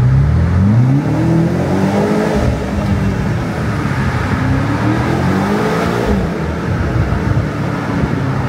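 A BMW X6M Competition engine in M1 mode revs hard inside a tunnel, the loud exhaust note rising and falling in repeated sweeping climbs that echo off the enclosing walls, with no talking.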